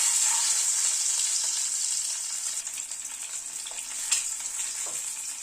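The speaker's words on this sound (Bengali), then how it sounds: "তেলটা গরম হয়ে গিয়েছে, ডিমটা ছেড়ে দিচ্ছি। ডিমটাকে একটু হালকা করে ভেজে তুলে নেব।" Eggs frying in hot oil hiss with a steady, close crackling sizzle, continuous and fairly loud, with a few brief louder pops and no voices.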